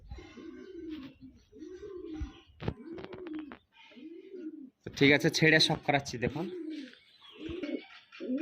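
A male and female pair of pigeons coo in a steady repeating rhythm, soft low calls close by, while someone talks over them partway through.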